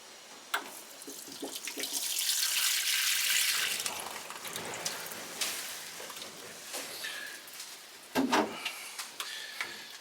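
Water poured onto compost in the outer halo ring of a container tomato plant, a steady close splashing flow that swells then fades, followed by a few scattered knocks and clunks, no talk.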